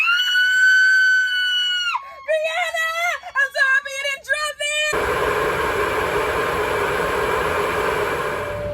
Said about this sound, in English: I was probably screaming because we both were excited that we both stayed on the trip